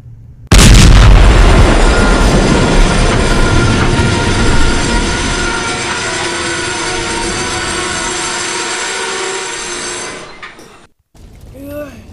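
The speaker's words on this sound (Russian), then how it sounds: "Ой, что такое? Взрыв. Взрыв." An explosion rips through a train crash in Minecraft, with a sudden loud blast that gives way to a long roaring, rumbling rush of noise before cutting off, then faint sounds afterward.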